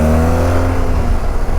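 Motorcycle engine pulling hard in second gear after a downshift, a loud, steady harmonic drone that rises briefly and then holds, close up with no talk.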